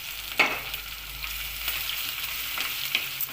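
Crushed garlic and curry leaves frying in oil for a fish curry, a continuous gentle sizzle close by, broken by a couple of brief sharp spatters or spoon knocks.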